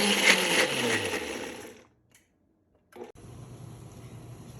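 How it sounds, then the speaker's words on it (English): A kitchen blender whirs loudly while blending cherry tomato sauce, then cuts off to near silence before a short burst and a quieter running hum resume. "So now I'm blending"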